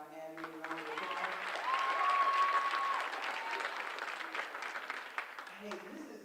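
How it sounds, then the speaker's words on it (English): An audience applauds the school administration at a send-off celebration, steady dense clapping from a crowd that swells and then tapers over several seconds, with a brief voice near the start. "So we can give our admin a round of applause."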